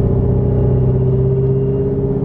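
Steady Ford Mustang supercharged engine drone with a low, even intake hum, constant and close, no voices.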